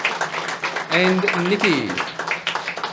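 Comedy show audience applauding the improv performers with rhythmic clapping as a host speaks over the noise.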